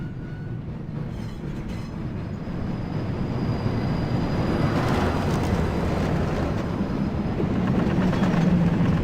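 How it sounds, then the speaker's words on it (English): A tram car in the video game Riven rolls along its track with a steady, loud rumble that swells after a few seconds and holds, carrying a faint high whine over it; no one speaks. "We gotta take this tram car."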